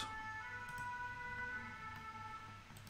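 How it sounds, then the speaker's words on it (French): Emergency vehicle sirens wail outside, their rising and falling tones faint and distant over a quiet indoor room, continuous for the full stretch. "Je suis habitué, moi, aux sirènes."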